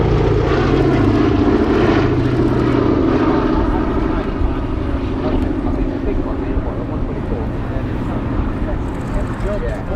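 The B-17 bomber Sally B comes in to land at Duxford airfield, its four radial propeller engines producing a loud, throbbing roar that stays strong and slowly eases, with people talking underneath.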